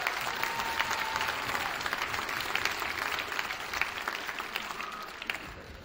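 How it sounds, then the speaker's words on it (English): Sustained applause from a crowd at a school swim, wrestling and DECA state send-off honoring state qualifiers, dense clapping filling the room for several seconds before starting to taper. "so if you could give them a round of applause"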